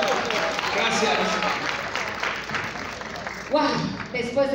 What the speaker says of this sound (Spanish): Y un fuerte aplauso de nuevo.